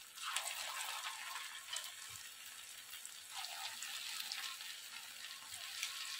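Mixed vegetable pakoda fry in a small pan, giving a steady, close sizzle of hot oil with faint bubbling that runs throughout, with no talking.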